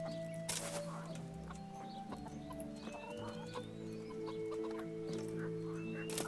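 Chickens cluck in a medieval village in the video game Kingdom Come: Deliverance, with steady low clucking from several birds heard under ambient game sound.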